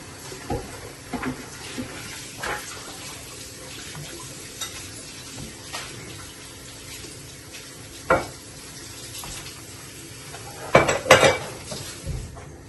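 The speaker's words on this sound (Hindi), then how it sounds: "साथों साथ हम बर्तनों का काम भी कर रहे होते हैं" Dishes, pots, pans and cutlery are washed at a kitchen sink while chicken malai tikka is being made, with clinks, scrapes and running water and a few louder clattering knocks near the end.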